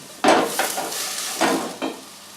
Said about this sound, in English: So that's your vegetables cooking.